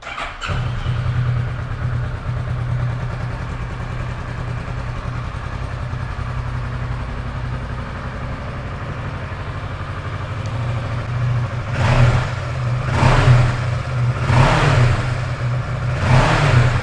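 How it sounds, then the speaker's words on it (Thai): A 2017 Kawasaki Versys 650 motorcycle starts cleanly and settles into a steady close idle, then its engine is blipped in four quick throttle revs near the end, each swelling and falling back. "สตาร์ททีเดียวติดนะครับ เครื่องแน่น ๆ นะครับ"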